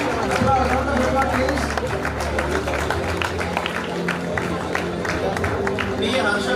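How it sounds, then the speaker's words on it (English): Audience applause and crowd noise at a graduation ceremony in a hall, steady sustained clapping mixed with chatter and movement throughout. "Round of applause,"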